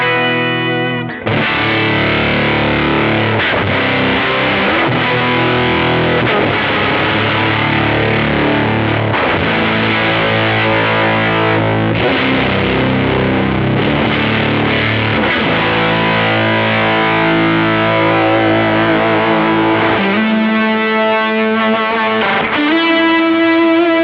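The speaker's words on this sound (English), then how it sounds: "Earthquaker Devices Life Pedal. So it's like a fuzz distortion. Here it is. It's got some octave in it." An electric guitar plays through an Earthquaker Devices Life Pedal fuzz distortion with an added octave, loud and continuous, with thick saturated chords and sustained notes for the whole stretch.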